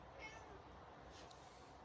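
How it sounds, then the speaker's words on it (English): A small cat lets out a faint, brief meow near the start, barely rising above a steady background hiss. "Did you hear the little meow at the end of that?"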